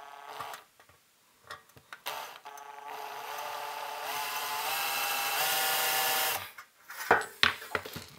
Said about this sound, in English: Let's see if I can get the drill to start into that little dimple.